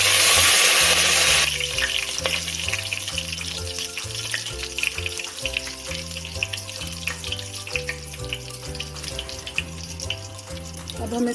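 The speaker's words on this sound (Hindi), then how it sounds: "अब हम इसमें सफ़ेद ज़ीरा शामिल करेंगे" Cumin seeds and curry leaves frying in hot oil for Hyderabadi mirchi ka salan, a loud steady sizzle with crackling throughout and a rhythmic low thumping underneath.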